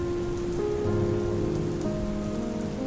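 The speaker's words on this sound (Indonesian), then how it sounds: "Hujan di luar jendela bergemerisik pelan" Soft, steady rain falls outside a window, a continuous gentle patter and rustle holding at an even level throughout with no voices.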